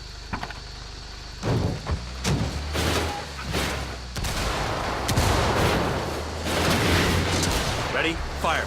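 Gunfire in Ghost Recon Wildlands, a run of loud broadband shots and bursts spread over several seconds over a steady engine-like rumble, with speech mixed in.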